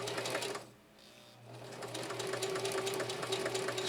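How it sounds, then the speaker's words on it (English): Singer Heavy-Duty 4423 sewing machine stitching fabric, a rapid mechanical whirring rattle that briefly drops away near the start then resumes steadily, close and fairly quiet with no talk. "Now we'll resume sewing."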